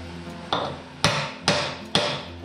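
Four sharp hammer blows drive a piece into a wooden woodworking bench, the strikes spaced about half a second apart, close and loud, each a solid thud that rings briefly, with no talking.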